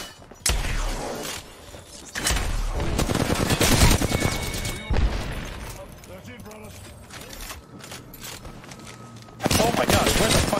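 Video game gunfire from an online battle-royale match, with loud bursts of rapid automatic shots and single cracks that come in clusters and then return after a pause.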